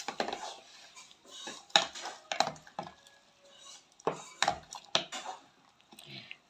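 A homemade rose apple wine mixture is stirred in a container, giving irregular close knocks, clinks and scrapes of a spoon against the sides, separated by short quiet gaps.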